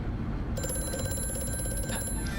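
A telephone bell rings in a factory setting in the horror game Amnesia: A Machine for Pigs, a steady ringing tone that starts suddenly and fills the short stretch over a low ambient drone.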